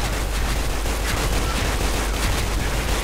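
SIG-551 rifle fire in the shooter game Special Force 2, loud rapid bursts of close gunshots cracking in a dense, continuous stream with no pauses or voices.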